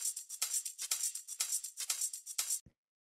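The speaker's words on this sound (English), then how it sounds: "So the next thing we've got going on here is the shaker" A simple shaker in a chill house beat, bright crisp rattling strokes in a quick steady rhythm for over two seconds, close and alone, then a soft low knock as it stops.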